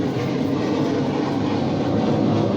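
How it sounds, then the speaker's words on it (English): A jet aircraft roars overhead near an air base, a loud, steady broadband rumble that fills the whole stretch with no voices. "Pardon the jet noise"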